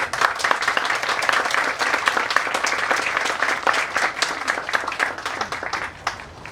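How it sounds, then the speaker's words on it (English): Outdoor audience applauding at a trail grand opening ceremony, with individual claps crisp and distinct inside a lively, sustained round of clapping that tapers near the end. "Let's give him a round of applause."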